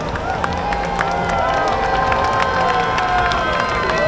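A crowd at Darling Harbour in Sydney cheers, whoops and claps steadily after a jetpack water show, a dense, continuous roar of many voices from open-air spectators.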